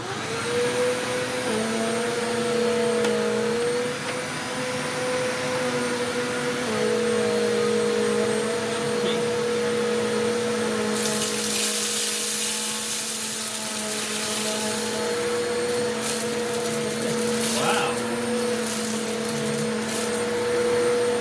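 Eureka Boss Capture bagless upright vacuum cleaner running over a floor scattered with white rice and oats, a loud steady motor whine with small shifts in pitch and crackling as debris is sucked up midway through.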